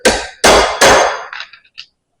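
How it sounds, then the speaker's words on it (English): Three loud metal hammer strikes drive wipers into a hydraulic bucket cylinder rod during a cylinder reseal, followed by a few quieter taps and clinks as the blows settle, with no talking. "use a hammer to hammer them down in here"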